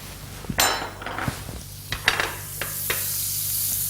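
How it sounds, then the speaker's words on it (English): Butter melts in a frying pan used for a frittata, giving a soft, steady sizzle with a few sharp clicks and taps against a low background hum, and the hiss swells toward the end. "add a little bit of butter to the same pan"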